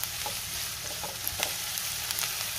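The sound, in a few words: onion and green chili frying in hot oil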